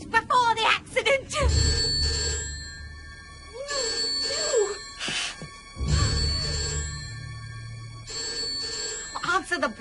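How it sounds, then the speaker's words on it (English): A telephone rings in repeated bursts, bright warbling tones separated by short pauses, loud and close, with people talking and groaning between the rings. "Answer the bloody phone."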